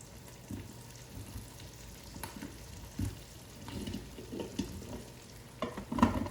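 Potatoes dropped into an Instant Pot for cauliflower and potato soup, soft irregular thumps and clunks close by over quiet kitchen background, ending in a sharper knock.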